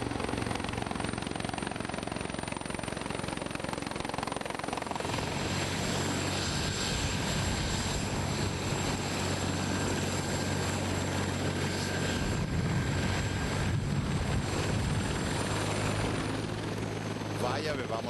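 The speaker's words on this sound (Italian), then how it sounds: "il governatore ha effettuato un lungo sopralluogo in elicottero nelle zone più colpite dal disastro" Helicopter rotor and engine drone steadily throughout, loud and continuous, during an aerial inspection over flood-devastated areas of the Veneto.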